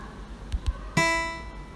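A single plucked first string of a guitar, tuned with a phone tuner app, rings out clearly after two soft taps, its bright harmonic-rich tone decaying slowly.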